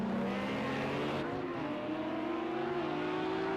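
Race car spinning out in Project CARS 2 during a GT3 league race at Texas, steady loud engine drone with shifting pitch and a dip as it loses grip, continuous throughout.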